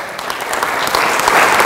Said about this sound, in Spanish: Ya un lindo aplauso al Señor.